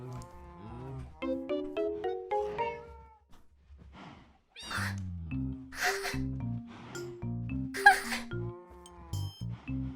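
Several cats meow repeatedly in Minecraft, a string of short tonal calls at moderate loudness, with a few broader noisy bursts between them and no talk over the meows.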